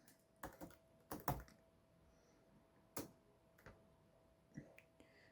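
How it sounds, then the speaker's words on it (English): Several separate keystrokes on a Toshiba Satellite L30-101 laptop keyboard, close and clear, in short irregular bursts with pauses between them. "I'm going to type my name."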